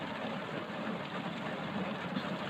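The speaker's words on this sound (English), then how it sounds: "You probably can hear all the rain just falling on top of the car right now." Steady rain drums on the roof of a parked car in a continuous, dense patter with no gaps, heard from inside the vehicle at moderate level, without any talking.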